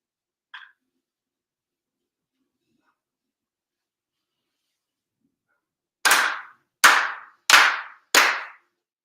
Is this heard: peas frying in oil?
no